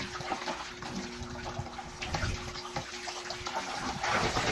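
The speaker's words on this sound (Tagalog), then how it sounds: "At yung mga kaya ko naman i-hand wash kagaya ng mga pillowcases ay hinand wash ko na" Laundry such as pillowcases is washed and rinsed by hand, with continuous splashing and sloshing water and an irregular, nearby swishing that swells near the end.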